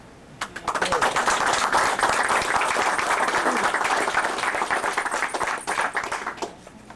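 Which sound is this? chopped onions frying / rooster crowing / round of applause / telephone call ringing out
round of applause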